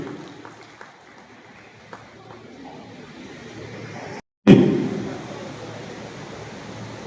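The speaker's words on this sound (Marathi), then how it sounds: "जोरदार टाळ्या वाजूयात या कॅन्सर वॉरियरसाठी डॉक्टर आशा दीपक" A crowd at a prize-giving ceremony for a state-level drawing competition breaks into applause after a short silence, starting strong and tapering into sustained clapping.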